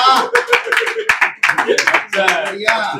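At a kavi sammelan, an audience gives thin, scattered clapping, a few sharp claps and short bursts mixed under a loud voice speaking over them.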